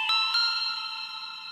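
Valhalla Supermassive delay and reverb plugin with warp at 50% and low density: two bright synthetic plucks smear into a sustained shimmering, echoing tonal wash that slowly decays, alone with no voices.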